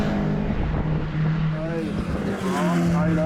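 500cc racing cars at a Kirkistown race meeting, engines droning steadily with harmonic tones shifting as they fight for position, heard under continuous commentary.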